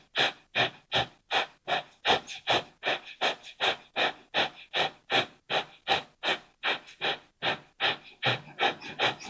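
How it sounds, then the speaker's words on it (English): Breath of fire yoga breathing: rapid, even, forceful inhales and exhales through the nose, about two dozen sharp pulses in a steady quick rhythm, close and alone. "So this is breath of fire."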